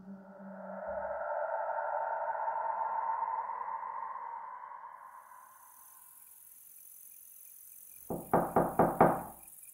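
Five quick, sharp knocks on a wooden door at the close, loud and close, with nothing else but a long soft whoosh earlier and a faint high hiss.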